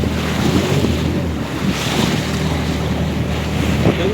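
Ocean waves roll and wash continuously along the coast below Nivati fort in Konkan, a dense surf roar mixed with heavy wind buffeting the microphone, with no voices.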